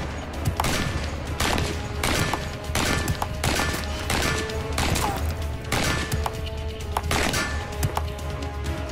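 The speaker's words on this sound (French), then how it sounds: "les soldats peuvent vider un chargeur entier en quelques secondes à peine, avec des tirs de suppression" An AK-47 assault rifle is fired on a test range, producing a steady series of loud, evenly spaced sharp reports with ringing tails, close by and with no talking.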